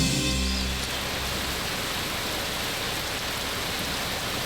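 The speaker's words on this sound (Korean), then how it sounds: "한여름의 소나기." A summer rain shower falls in the mountains, a dense, steady hiss of rain on surfaces filling the whole stretch at an even, fairly loud level.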